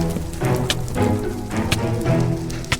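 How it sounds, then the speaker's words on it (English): Steady rain falling in the Minecraft video game, a dense constant patter of drops with a few sharper ticks, loud and continuous with no talk. "It's raining"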